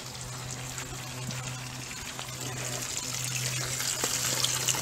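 Water runs steadily through a hose into a flush muff on an oil-injected three-cylinder 90 horsepower outboard motor, a constant close trickle and hiss with a low hum beneath, growing slightly louder.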